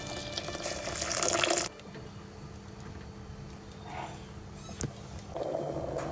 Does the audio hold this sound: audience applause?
no